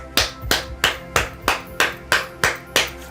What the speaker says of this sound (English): Clapping your hands 10 times.